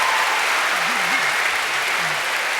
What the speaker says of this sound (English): can we just give them both a huge round of applause for being here?